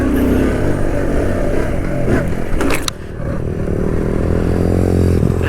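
A Kawasaki Z125 motorcycle being ridden during wheelie practice gives a loud, steady roar of engine and wind close to the rider, with a short dip partway through before the drone builds again.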